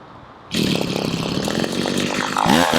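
A string trimmer cuts along a lawn edge, bursting in loudly and close after a half-second lull, then holding a steady, harsh whine to the end with a brief shift near the finish.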